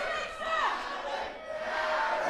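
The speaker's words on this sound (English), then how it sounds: "The crowd are telling Ivy that she's a Karen" A wrestling crowd chants and shouts together at a live event, sung voices rising and falling across the arena in a steady, moderately loud wave.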